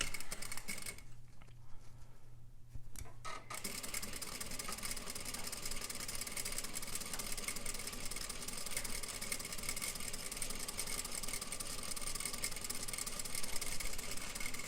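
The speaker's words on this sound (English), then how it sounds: "presser foot down, needle down, sew, back stitch" Sewing machine stitching a plain seam with a backstitch, giving a steady, continuous motor whir with a fine mechanical hum that runs nearly unbroken throughout.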